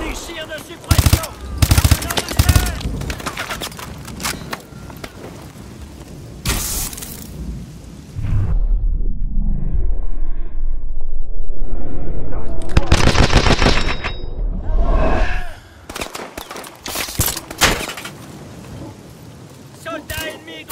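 Machine gun suppressive fire in Call of Duty: Advanced Warfare, with loud repeated bursts of automatic shots, a quieter stretch of rumbling battle noise in between, and soldiers shouting in French among the gunfire.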